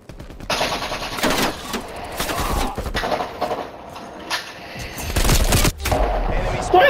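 Bursts of automatic gunfire in Black Ops: Cold War duos multiplayer, several loud, sharp volleys separated by short pauses, with some thuds and a shattering crack.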